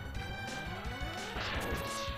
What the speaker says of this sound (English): This is glass like... Glass explosion.